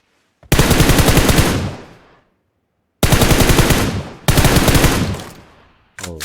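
Automatic gunfire in a video game, three long loud rapid-fire bursts separated by short pauses, with a fourth burst starting at the end; no voices.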